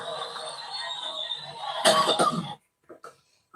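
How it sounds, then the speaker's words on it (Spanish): A man breaks into a harsh burst of coughing right after talking at a speech, a few loud rasping coughs followed by brief silence and a couple of softer throat sounds. "lo cogió la tos"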